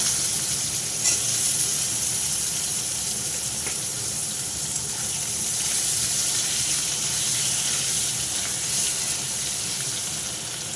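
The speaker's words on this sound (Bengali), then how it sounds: "এবার আমি দিয়ে দেবো হাফ সিদ্ধ করা আলুগুলো। এগুলো ভেজে ভালো করে তুলে নেব।" Half-boiled potatoes fry in hot oil with dried red chilli, making a dense, even sizzle that holds steady and fairly loud throughout without speech.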